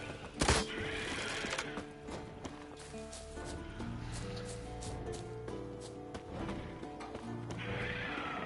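Horse sounds with clip-clopping hooves and a brief whinny amid a busy, layered soundscape from The Witcher 3: Wild Hunt; faint voices mixed in.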